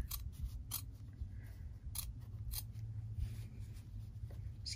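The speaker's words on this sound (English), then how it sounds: "I just trim around that center of the O." Scissors trimming fabric around a sewn letter O: several quiet, close snips spaced irregularly over a low background hum.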